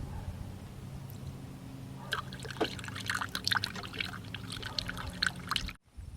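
Radiator flush cleaner and water poured into the radiator of an 89 Cherokee with a 4.6L stroker engine: a steady, close trickling pour starts about two seconds in and runs on, then cuts off abruptly near the end.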